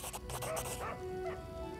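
A dog barks and whimpers in the Pathfinder: Kingmaker video game: a rapid cluster of short yips and whines over a dense, steady layer of game sound.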